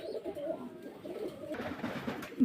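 Soft, low pigeon cooing murmurs steadily against a quiet background hiss.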